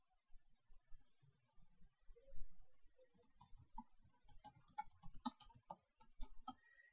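Quiet typing on a computer keyboard, scattered key clicks that build into a quicker run of taps, heard up close with no talking.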